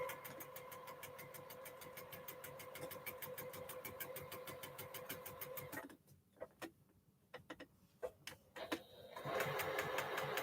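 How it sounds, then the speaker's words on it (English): A sewing machine stitches a quarter-inch quilt seam with a fast, steady mechanical whirr of the needle for about six seconds. A pause with a few short clicks follows as stitches go forward and back, then the motor resumes loudly. "I'm going to come in, take 1 or 2 stitch forwards and 1 or 2 stitch back"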